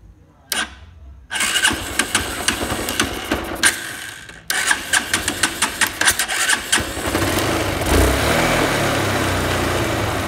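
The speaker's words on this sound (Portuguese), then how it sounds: "Então vamos ligar a moto." A Honda Bross 150 motorcycle engine is started after its battery-charging fault was fixed. Brief cranking bursts lead into a rapid, rhythmic chugging that settles into a steady, close idle.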